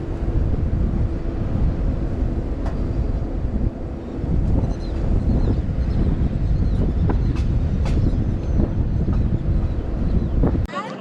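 Train 22642 Shalimar Trivandrum Express running, heard from inside a coach: a continuous low rumble with scattered rattles and clicks, buffeted by wind noise throughout.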